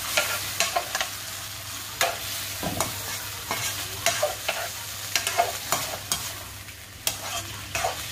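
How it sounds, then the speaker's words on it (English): Prawn tails fry in hot oil left from cooking chicken breast, a steady close sizzle broken by repeated scraping stirs at a regular pace, with no voices. "Prawn tails have been frying for about 5 minutes now, so that's done."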